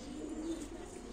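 Pigeons coo softly and continuously at a live pigeon auction for show and play birds, a low steady murmur of several birds close by with no talk over it.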